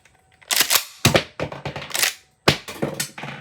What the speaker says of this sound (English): let's load one in the mag tube